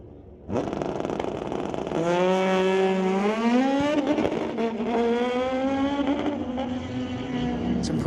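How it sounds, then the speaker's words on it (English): A 2008 Suzuki and a Kawasaki street-legal motorcycle launch down a drag strip, engines snapping from idle into a loud, rising high-revving howl with gear changes, the note continuing strongly to the end. "Lee Gallant, Tower Lane 2008 Suzuki. It's going against Ralph Steen and his Kawasaki."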